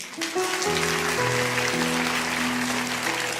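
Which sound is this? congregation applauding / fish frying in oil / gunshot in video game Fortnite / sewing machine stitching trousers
congregation applauding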